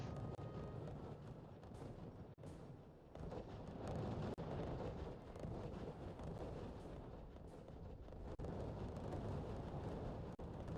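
Light artillery fires in the real-time strategy game RUSE, a run of low, muffled booms and rumbles with brief sharp bursts, steady and fairly distant-sounding, with no talk over it.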